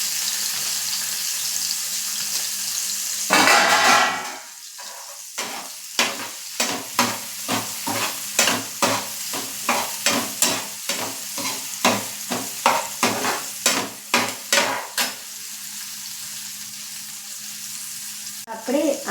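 Chilli and spices frying in a pan, stirred with a spatula: after a loud initial sizzle, a long run of rhythmic scraping strokes, roughly two per second, over a soft crackle, close and with no talking.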